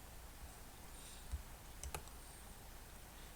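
A computer mouse clicking during navigation of the Microsoft 365 admin centre: a pair of quick, faint clicks near the middle, set against a quiet room hiss with no talking.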